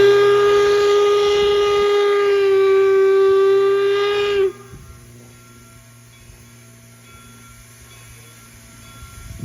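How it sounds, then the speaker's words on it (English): A loud, sustained steam locomotive whistle, driven by steam from the steam dome, blasts for about four seconds, then cuts off abruptly, leaving a quiet hiss. "What operates the whistle? The steam coming out of the steam dome."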